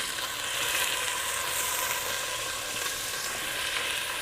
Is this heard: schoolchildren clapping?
no